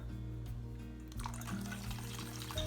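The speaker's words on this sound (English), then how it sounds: "I'm going to add a bit of water in it now." Water is poured steadily into a pot of kadhi, a soft continuous splashing close by over a low background hum.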